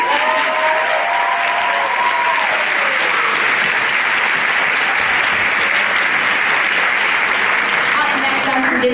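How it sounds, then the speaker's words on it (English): A school pageant crowd at Mr Hoosac 2022 bursts into loud, sustained applause, a dense continuous roar of clapping that holds steady for the whole stretch. "So round of applause is loud."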